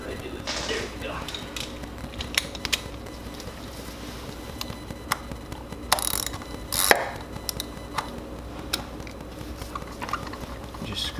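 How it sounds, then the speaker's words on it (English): A 10mm ratchet turns during spark plug replacement on a 2017 Jeep Cherokee, with scattered clicks and metallic ticks over a steady noise bed and a few louder clanks near the middle. "Get my 10mm ratchet."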